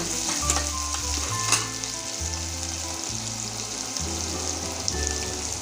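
Loud, continuous sizzling of onions frying in spiced oil, close up, with a low rhythmic hum underneath and no talking.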